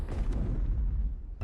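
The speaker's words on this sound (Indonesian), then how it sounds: "Kapal pun meledak." A ship blows up in a film, a single deep booming blast that rolls and decays over about a second before a brighter burst cuts in at the end.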